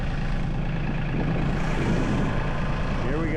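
An LS 32hp tractor engine running in four-wheel drive, a steady close diesel rumble with a dense low drone throughout and no pauses.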